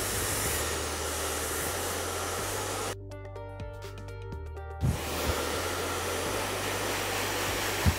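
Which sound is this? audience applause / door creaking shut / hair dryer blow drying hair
hair dryer blow drying hair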